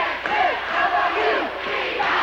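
A hockey crowd at the Ice Garden roars and cheers loudly and continuously, a dense wash of many voices with rising shouts and no break in the noise.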